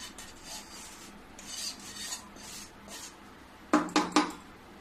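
Roasted gram flour is scraped from a kadhai into a wide metal tray for chickpea laddoos, a run of soft rasping scrapes ending in three sharp metallic knocks of the pan against the tray.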